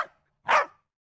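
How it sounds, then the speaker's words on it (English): A dog gives a single short, sharp bark, close and fairly loud, with only the tail of an earlier sound before it and silence after. "Dog."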